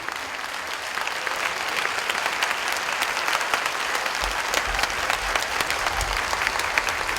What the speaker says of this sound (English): with a warm of applause, please welcome the Supreme Master Ching Hai.